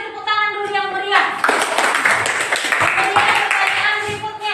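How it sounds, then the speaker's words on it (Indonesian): Children and a teacher in an Indonesian classroom break into lively hand clapping, a dense patter of many small hands that starts after a brief voiced lead-in and continues steadily. "kasih tepuk tangan dulu yang meriah"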